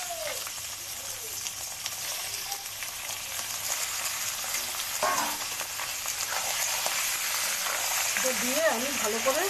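Chicken pieces frying with lightly browned onions in a pan, a steady broadband sizzle running throughout with faint stirring, while a voice speaks briefly near the end.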